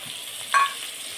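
Ground spices hit hot oil with eggplant and potatoes in a pan, giving a steady soft sizzle and one brief sharper hiss of stirring or the spices dropping in.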